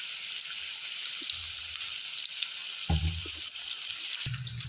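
Raw banana kebabs fry gently in oil over a low flame, giving a steady soft sizzle with scattered light pops and a few low bumps from the pan.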